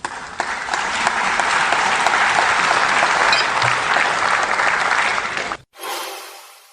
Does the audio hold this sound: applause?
yes